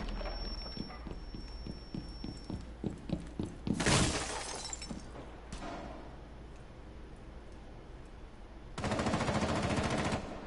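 A frag grenade explodes in a video game amid rapid gunfire: a quick volley of shots builds into a sharp, loud blast, and a second, longer burst of noise follows near the end.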